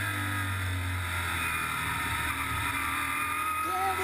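Race cars roar around the Flat Rock Speedway oval during an ARCA/CRA Super Series race, a steady, loud engine drone that holds without a break.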